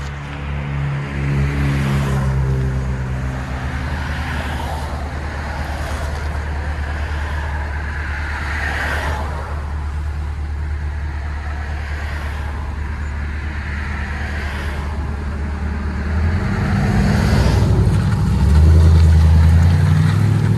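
Aftermarket exhaust on a 2007 Toyota Tundra with the 5.7L V8, a deep steady idle rumble that swells into a louder rev near the end, close and alone with no voices.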